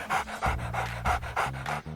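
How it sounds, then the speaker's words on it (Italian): A dog pants close by in rapid, rhythmic breaths, about six quick huffs in two seconds, with no talk. "Guardate, questo cane mi ha seguito."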